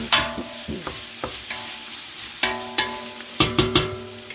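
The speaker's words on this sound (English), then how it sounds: "once it starts rendering some fat, and it's all broken apart" Bacon frying and rendering fat in a soup pot for ham and bean soup, a steady sizzle close up, broken by repeated scraping clanks of a utensil stirring against the pot.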